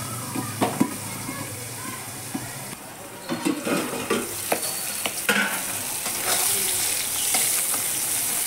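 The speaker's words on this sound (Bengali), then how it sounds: "এই মাছটা ঢেকে ঢেকে করতে হয়, ভীষণ ফুটে।" Ghaora fish frying in hot oil in a pan: a continuous crackling sizzle with bursts of spattering and spoon scrapes as the pieces are turned, close and fairly loud.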